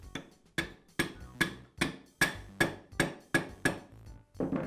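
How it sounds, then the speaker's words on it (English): A rubber mallet taps a Porter Cable router armature down into its lower bearing: about ten evenly spaced, firm, close knocks in a steady rhythm, each with a short ringing decay. "I'll use a rubber mallet to tap it into place"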